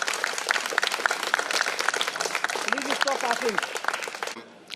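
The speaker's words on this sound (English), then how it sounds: "I just want all of us to just give them a huge applause" Large audience applause at a film trailer launch, loud continuous clapping that holds steady for several seconds, with a voice talking partly over it, before it cuts off sharply.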